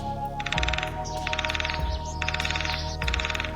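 Repeated bursts of rapid, rattling bird calls, four in a row with short gaps, like a woodpecker, over a steady mechanical hum.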